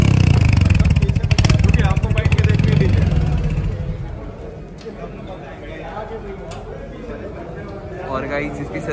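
A new Royal Enfield Hunter 350 motorcycle's 350cc engine idles with a loud, close, throbbing exhaust thump that fades after a few seconds, leaving faint background noise and distant voices.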